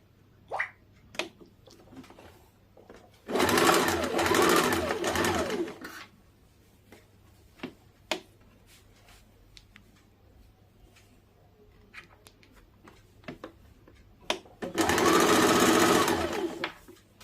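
A sewing machine stitches a half-inch seam along the waistband strip of a simple darted blouse, with two loud, close runs of about three and two seconds. Quiet clicks and handling noises fill the long gap between them.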